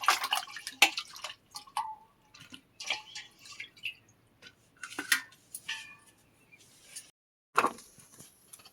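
Cut potatoes being rinsed in water for a fish curry, heard as scattered close drips, splashes and handling sounds in irregular bursts with quiet gaps, no talk.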